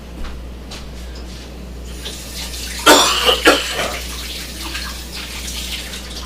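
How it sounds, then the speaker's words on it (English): Kitchen tap running while hands are washed, a steady rushing stream that swells into louder splashing bursts midway, near and alone. "Let me wash my hands."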